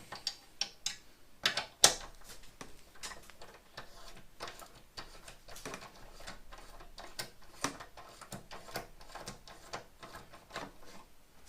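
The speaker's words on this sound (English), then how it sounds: "let's get the bolts out" Bolts are undone on an Intel MDS-800 computer, a series of sharp metallic clicks and ratcheting ticks at an irregular rhythm, close and fairly quiet, with short pauses between turns.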